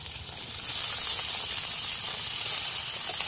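Cabbage sizzles in a hot pan, a steady soft hiss that swells after a brief quieter start and then holds even, with no talking.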